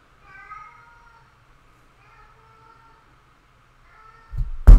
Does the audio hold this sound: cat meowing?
yes